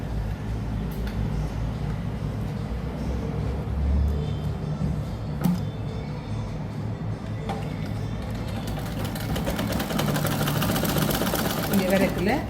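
Sewing machine stitching a blouse neckline, a steady low mechanical hum running throughout at moderate volume, with a voice speaking over it.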